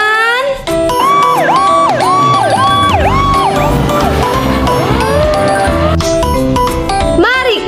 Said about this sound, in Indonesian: Ada mobil pemadam kebakaran, teman-teman.